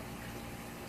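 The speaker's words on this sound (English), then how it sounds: "And you wash your hands." Water runs steadily from a kitchen tap while hands are washed after handling raw corned beef, a continuous close gush with no talking.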